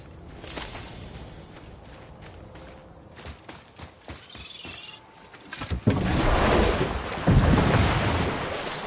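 Water sloshes and surges around a small boat being rowed in God of War, with wind rushing throughout and a louder swell of splashing water toward the end.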